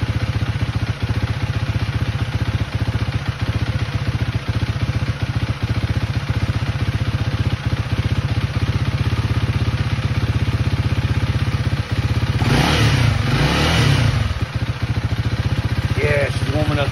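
A Honda CRF300L dual-sport motorcycle idles close by on a cool morning as it warms up. The engine runs in a steady, fast, uneven beat and surges briefly partway through.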